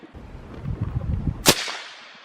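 A single loud, sharp rifle shot from a Mossberg Patriot chambered in 7 PRC cracks out near the end, then rings off into a fading tail over a low rumbling background.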